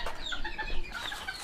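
Fancy chickens, not Serama, kept by a Serama chicken breeder cluck steadily and close by in a short, busy run of clucks, with no talking.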